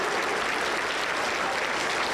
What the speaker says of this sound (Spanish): Aplauso para Jesús.